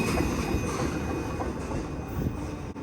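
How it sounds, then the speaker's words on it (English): A long freight train rolls slowly through Greenville, South Carolina, a steady close rumble of wheels and cars with faint clatter and squeal, holding level for the whole stretch without any voices. "Despite our train's length, slow speed, and large stature, it was nevertheless making headway, and soon it was gone altogether."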